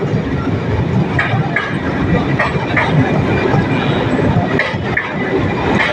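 A passenger train bound for Cox's Bazar runs on the rails with a loud, continuous rumble and rhythmic clickety-clack from the wheels, heard from close by throughout.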